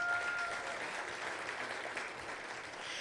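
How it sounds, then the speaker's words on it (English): Audience applause at a legislative day rally beside a state capitol building in New York, fairly faint and distant, with steady, even clapping and a brief tonal whistle near the start. "So give yourselves a round of applause for being here."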